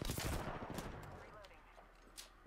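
Shotgun blasts from gunfire in the video game Apex Legends, a dense cluster of loud booming shots packed into the first second, then fading into quieter scattered game noise.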